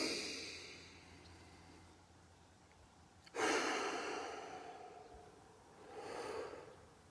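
Two audible breaths come during a guided breathing exercise outdoors: a sudden inhale near the middle and a softer, slower one near the end. Both are close and alone against a faint background, with no talking.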